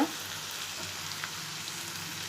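Tomatoes sautéing in a pan for Tamil paruppu kulambu give a steady, soft sizzle and fry that runs unbroken and alone at low volume, with a brief clatter right at the start.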